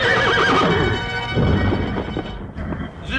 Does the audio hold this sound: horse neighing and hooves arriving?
yes